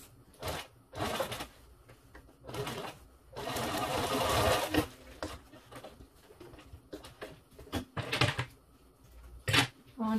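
Sewing machine stitching a leatherette banquette box cushion, its motor whirring in short bursts and one longer steady run, with pauses between passes.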